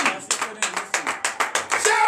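Congregation at a morning prayer service in Benin applauding, a run of sharp, rhythmic hand claps at a moderate distance, about eight to ten distinct bursts in quick succession.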